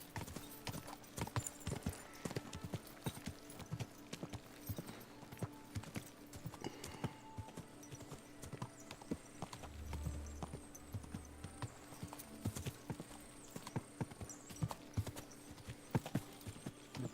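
Horse hooves clip-clop steadily on a hard surface in the video game Kingdom Come: Deliverance II, a continuous rhythmic trotting under faint ambient sound, with a low rumble partway through.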